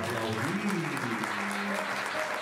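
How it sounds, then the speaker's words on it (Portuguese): Audience clapping at a children's theatre company's musical show, a steady broadband wash of applause throughout with some voices and tonal sounds mixed in beneath. "pode aplaudir"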